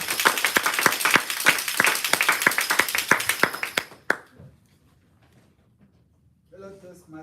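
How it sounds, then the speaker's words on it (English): An audience gives a round of applause for the second contestant heading to the lectern at a Toastmasters speaking event, dense steady clapping for about four seconds that stops abruptly, followed by a quiet pause and faint sounds. "Please, with a round of applause."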